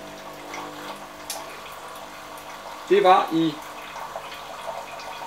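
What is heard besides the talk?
Jura F9 coffee machine running water through new filter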